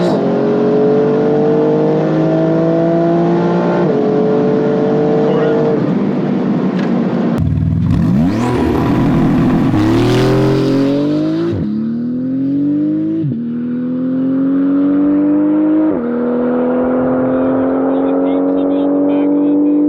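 A wingless Porsche GT2RS launches on a quarter-mile run, its engine loud and close as it climbs through several gears, revving rising then dropping at each shift, with a brief harsh burst near the launch and voices faintly underneath.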